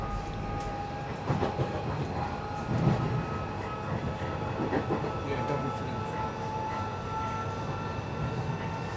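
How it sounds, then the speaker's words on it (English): A Class 458 electric train rolls past with a whining motor tone, rattling wheels and clacking over rail joints, steady and moderately loud. "The Class 458 trains were built at Washwood Heath in Birmingham."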